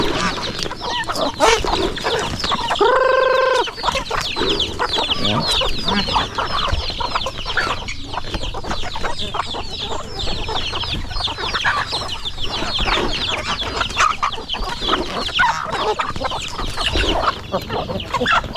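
A flock of farm chickens clucking continuously, many overlapping busy calls close by with one brief drawn-out squawk early on, no talk.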